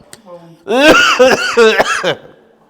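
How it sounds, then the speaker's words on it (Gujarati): An elderly, long-ill man has a loud, close fit of harsh, voiced coughs in quick succession, with a short vocal sound just before the fit. "બાપાને પાણી પો બાપાને બહુ ઉધરસ આવે"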